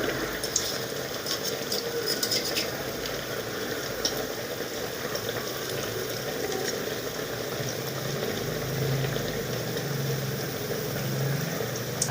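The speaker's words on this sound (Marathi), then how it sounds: "छान असे लाल होईपर्यंत तळून घ्यायचे।" Potato snack frying in hot oil over a low gas flame, a soft, steady bubbling sizzle running continuously with no voices.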